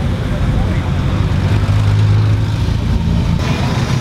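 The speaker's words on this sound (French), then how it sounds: "l'effet d'être arrêté, d'entendre les moteurs tourner" Car engines idling in a stopped traffic jam in Tours, France, a steady low rumble of nearby motors with a faint hum rising midway, continuous throughout.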